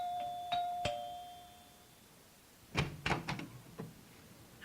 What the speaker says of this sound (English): They arrived at the house at 8 o'clock, and Nancy rang the doorbell.